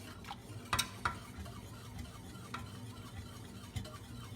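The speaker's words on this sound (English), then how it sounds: "so you have to keep stirring until until the bubble starts" A spoon stirs a pot of cheesy broccoli and macaroni on the stove, with a few sharp clinks against the pot and soft scraping over a faint low simmer, quiet and close, with no voices.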